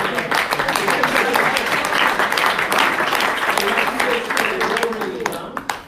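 A conference audience at a charity-sector research session gives a sustained round of applause, dense and steady for several seconds before tapering off, with a voice speaking over it.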